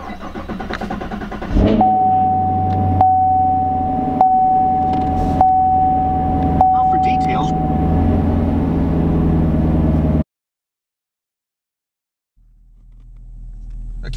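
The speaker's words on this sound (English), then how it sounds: "we are gonna do a cold start with the fuse pulled" 2016 Chevrolet Camaro SS V8 cold start with a fuse pulled: a starter whir, then the engine catches with a loud burst and settles into a steady rumbling idle before cutting off.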